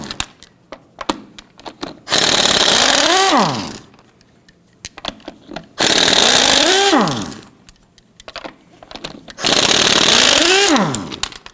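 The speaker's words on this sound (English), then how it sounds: "let's go ahead and loosen and remove our lug nuts" A power tool with a 19mm socket loosens and removes lug nuts on a 1997-2006 Jeep Wrangler front wheel: three loud, buzzing bursts, each ending in a falling spin-down whine, separated by quiet gaps with small clicks.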